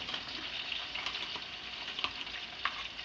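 Ginger garlic paste frying in a pot for restaurant-style biryani, a close, steady crackling sizzle with scattered sharp pops and stirring scrapes, no voices.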